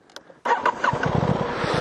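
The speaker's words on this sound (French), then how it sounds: "Et si je démarre la moto," An Aprilia Tuono 660 motorcycle engine starts with a short crank and catches abruptly into a loud, steady close-up idle, after a few faint clicks.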